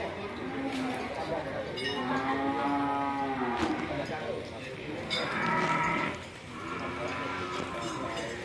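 Peranakan Ongole (PO) cattle moo on a farm, long low drawn-out calls rising and falling over steady background noise, with people talking nearby and faint clinking.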